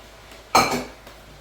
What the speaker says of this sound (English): so this is where we're really stir frying here